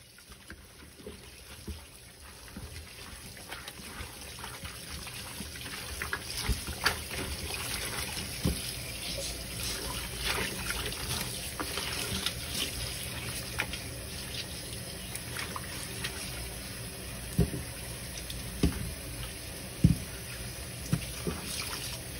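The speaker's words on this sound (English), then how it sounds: "now we're gonna rinse off the lime juice" Tap water runs and trickles over a turkey as lime juice is rinsed off, a steady close splashing flow with small irregular spatters and drips throughout.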